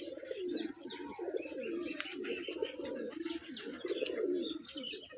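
Pigeons coo close by in soft, repeated rolling calls, several birds overlapping in a continuous low murmur, with faint chirps above.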